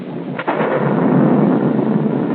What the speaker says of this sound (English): as the storm sweeps over New York, there's nothing to do but wait